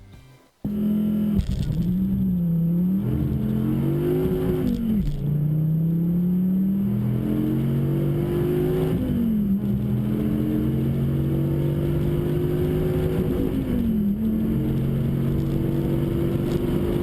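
A sports car engine revs and drives, a loud sustained drone rising and falling in pitch through repeated acceleration and gear changes, heard up close with no talk.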